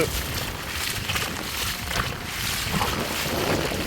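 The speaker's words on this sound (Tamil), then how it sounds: "காற்றும் பலமாக இருக்குது காற்றும் ரொம்ப அடிக்குது" Strong wind roars steadily against the microphone during a rainy-season storm in a sandy village, a loud continuous rushing with gusty swells and no clear pauses.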